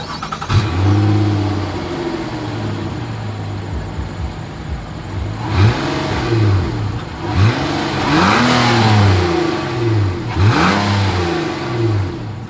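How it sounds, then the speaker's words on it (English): A 2023 Nissan Murano SUV exhaust idles low, then is revved in several sharp bursts that rise and fall back, loud and close with no talking. "As always, here is that exhaust clip."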